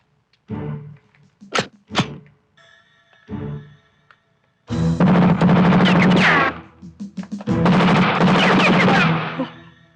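A few sharp gunshots ring out during target practice, followed by two long, loud bursts of rapid automatic fire close by.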